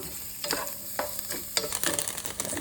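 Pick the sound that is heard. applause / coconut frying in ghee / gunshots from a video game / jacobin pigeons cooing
coconut frying in ghee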